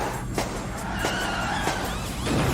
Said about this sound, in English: Turtleneck here off-roads and gently stops at this tree on the ground, which I think was supposed to be him crashing